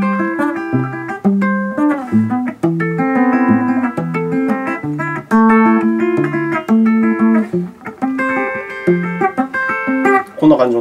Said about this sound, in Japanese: エフェクター切ってアルペジオしてみると。